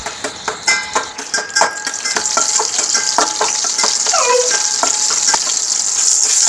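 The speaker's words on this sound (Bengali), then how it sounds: "সর্ষে তেলটা গরম হবার পরে এবার শুকনো লঙ্কা দিয়ে দিলাম" Dried red chillies fry in hot mustard oil with a loud, close, continuous sizzle, punctuated early on by a series of sharp stirring clicks and scrapes against the pan.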